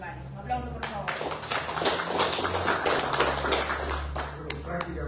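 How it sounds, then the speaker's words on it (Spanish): Applause from an audience at a book presentation for a poetry collection, a steady wash of many hands clapping with crisp individual claps standing out, continuous and fairly loud across the whole stretch. "Un aplauso, por favor"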